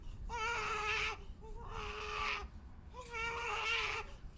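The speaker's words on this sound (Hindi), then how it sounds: "लेकिन बच्चा शांत होने के बजाय और जोर से रोने लगा।" A baby cries loudly in three long wailing bursts with short pauses between them, close and clear above a faint background.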